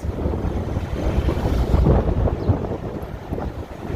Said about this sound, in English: It's just a lot of wind, man. A lot of wind.